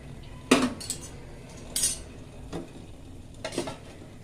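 A spoon scrapes and clinks against a metal pot of boiling kodo millet rice a few times, with brief pauses between strokes, close by and with no talking.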